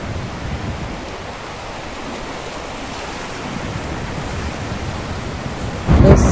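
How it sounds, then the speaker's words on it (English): Ocean surf at a Boca Raton beach, a steady broad wash of breaking waves with wind noise, loud and continuous, swelling at the very end. "It looks like we could get a little surf later for the surfers."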